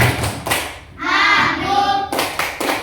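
A classroom of students performs a rhythmic 'tepuk konsentrasi' concentration clap, sharp bursts of hand claps in a patterned sequence with a chanted voice in the middle and more claps following.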